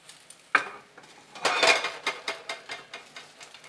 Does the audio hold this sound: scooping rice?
yes